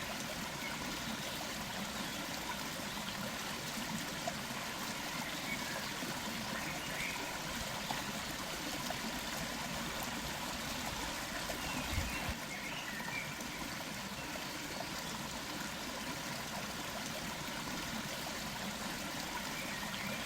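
River water flowing steadily in a steady broadband wash of running water, constant and fairly close, with no voices over it for the whole stretch.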